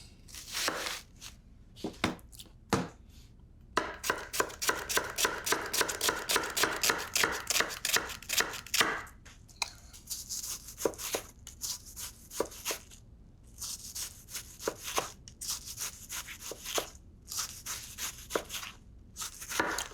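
Onion being sliced on a board for a rustic piperade: quick rhythmic knife strokes, close and crisp, running in fast bursts with short pauses between runs.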